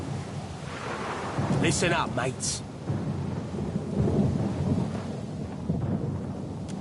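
A thunderstorm rolls at sea in the game Pillars of Eternity II: Deadfire, with a continuous rumble and wash of rain and wind behind a voice, and a brief sharp crackle near the middle.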